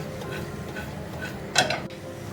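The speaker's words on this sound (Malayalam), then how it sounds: "എല്ലാം ചേർത്തിട്ട് നമുക്കിതുപോലെ ഒന്ന് ജസ്റ്റ് ഒന്ന് മിക്സ് ചെയ്ത് കൊടുക്കാം." Egg fried rice being mixed in a pan, with soft scraping and clinking of a utensil against the pan and one sharper knock near the end; no voices.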